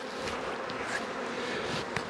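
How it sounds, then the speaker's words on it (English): A single honey bee buzzes inside a beekeeper's veil, its drone close and fairly quiet over a hum of other bees from the open hive, with a couple of soft bumps. "Oh, there's a bee in my veil."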